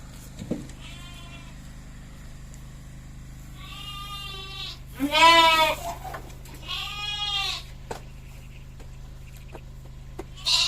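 Several sheep bleat one after another, wavering calls rising over a steady low hum, close by, with short gaps between them.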